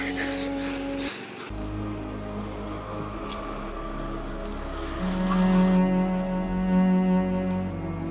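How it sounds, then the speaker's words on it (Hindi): A car engine hums steadily and rises as the vehicle pulls away on a road, loud and close, with a brief faint squeal. "चल मैं तुझे घर छोड़ देती हूँ। पहलवान गाड़ी निकाल।"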